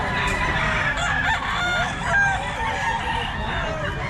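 Gamefowl roosters of lifeline and lemon sweater breeds crow loudly and repeatedly at a small-time seller's stand, with clucking from other birds mixed in.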